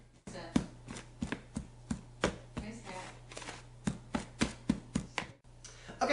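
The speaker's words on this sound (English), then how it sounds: "slicing the butter down into tiny little particles that are coated with flour" A pastry cutter or knife slices butter into flour for scones in a bowl, a regular series of crisp soft chops repeating about twice a second, close and fairly quiet over a faint steady hum.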